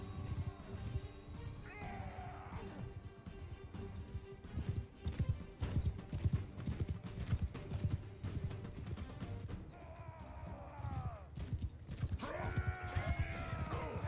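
Hooves clip-clop steadily as a horse gallops through a Mount & Blade 2 Bannerlord battle, with occasional whinnies and creaking gear in a busy mix.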